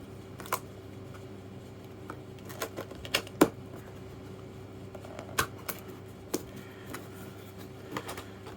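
Cardboard box of a new CXD Beatle being opened and handled, giving soft scattered taps, rattles and clicks of packaging at close range, with a few sharper knocks and no talking.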